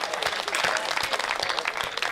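Dense audience applause from a Hindi comedy show crowd, steady rapid clapping close by throughout, loud and continuous with no talk over it.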